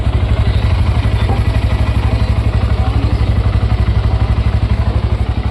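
A 125cc Honda motorcycle engine idles close by, its exhaust putting out a steady, rapid thumping pulse that stays loud and even throughout.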